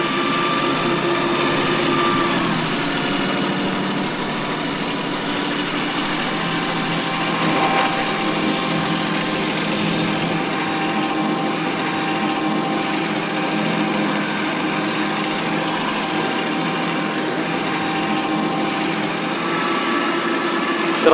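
A Japanese mini tractor engine, freshly overhauled, runs steadily with a high, buzzing mechanical drone that holds an even level throughout, close by and continuous.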